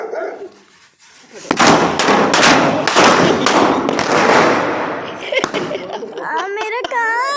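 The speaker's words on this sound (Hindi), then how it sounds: "देखो एको इन पटाखों से कैसे भागता है?" Firecrackers burst in a rapid string of sharp, loud cracks and thuds close by, and a dog barks and yelps between and after the blasts, with people talking over the noise.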